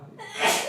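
A single short sneeze, close by, with a sharp intake of breath before the burst; no talking.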